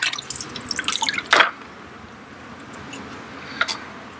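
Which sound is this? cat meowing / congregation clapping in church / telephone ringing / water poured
water poured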